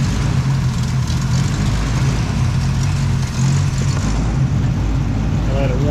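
A 1964 car engine with radiator problems idles steadily close by, a low throbbing rumble with an even rhythm and no other prominent sounds.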